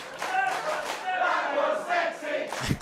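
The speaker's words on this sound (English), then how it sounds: "The crowd very, very much enjoying that particular piece of business" A pro wrestling crowd cheers and roars steadily through a live match, a loud sustained mass of voices with a dull thud near the end.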